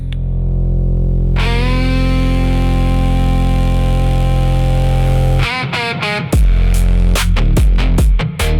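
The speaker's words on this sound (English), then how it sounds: "You can hear that engine fade." Engine rumble with a steady low drone and whining harmonics holds for several seconds, then breaks into choppy, stuttering bursts as it fades away.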